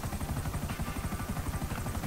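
Helicopter flying in the video game GTA 5: a steady, fast rotor chop with a broad engine whine, continuous and loud for the whole stretch, with no voices.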